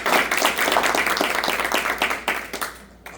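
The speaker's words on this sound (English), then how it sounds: "we give our colleague, Representative Felix, a round of applause, please?" A small audience at a press conference claps in a short burst of applause. The individual claps are distinct and fade quickly after about three seconds.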